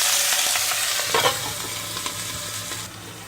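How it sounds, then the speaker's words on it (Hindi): Cumin, asafoetida and chopped bathua leaves sizzle loudly in hot ghee in a kadai, with a steady close frying hiss and a few stirring scrapes that settle toward the end. "अब इसमें जीरा डालेंगे, हींग डालेंगे, कटा हुआ बथुआ डालकर इसे ढक देंगे।"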